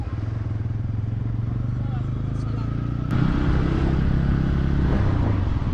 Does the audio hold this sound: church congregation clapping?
no